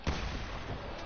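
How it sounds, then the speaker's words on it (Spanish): A musket fires once in GTA 5 Online, a single heavy boom at the start that rolls off into a long, rumbling echo. "yo creo que quiero probar de un disparo con el mosqueta"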